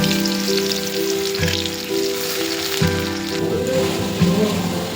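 Chopped garlic, chili and ginger frying with cumin seeds in hot mustard oil in a wok, a continuous crackling sizzle with sputtering pops and a steady tonal hum underneath, no talking.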